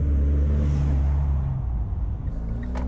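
A Mitsubishi Delica D:5 pulling away in low first gear, its engine a loud, steady low drone that eases off as the vehicle moves, heard from close by with no talking.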